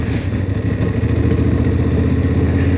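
An adventure motorcycle's engine runs with a loud, steady, throbbing rumble and some mechanical clatter, heard close and continuous throughout.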